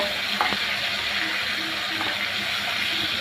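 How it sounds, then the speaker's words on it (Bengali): Shrimp frying in soybean oil in a pan, a constant dense sizzle with a few faint clinks and stirring scrapes, close and steady with nobody talking. "তেলটা গরম হলে দিয়ে দেবো চিংড়ি মাছ হালকা করে একটু ভেজে নেব"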